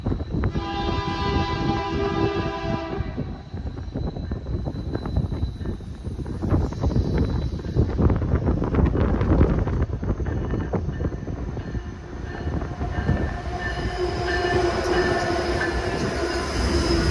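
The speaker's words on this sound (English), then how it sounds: "Another foreign train came down the line" A freight train rumbles steadily past close by in Elkhart, wheels clattering and metal squealing, with a horn sounding near the start, continuous and loud throughout.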